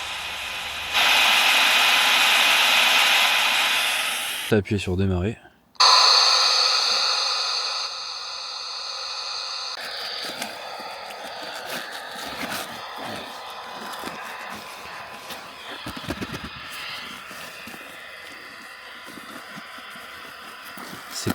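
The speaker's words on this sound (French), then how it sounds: "Voilà, c'est juste du bruit blanc." A spirit box radio device used in a paranormal investigation in a cold château gives off a loud, steady burst of white noise that cuts off abruptly. A brief spoken prompt follows, then fainter crackling radio sweeps.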